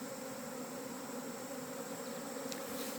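A swarm of honeybees being caught, a dense and steady buzzing drone that stays close and constant throughout, with no voices over it.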